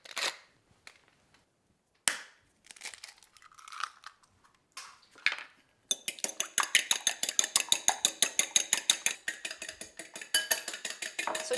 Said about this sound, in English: So just whisking that 1 egg